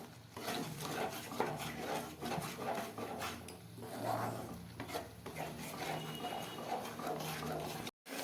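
Tomato chutney with sugar stirred constantly in a pan, a rhythmic scraping and rubbing of a spoon against metal over a soft sizzle, close and fairly quiet, with a brief gap near the end.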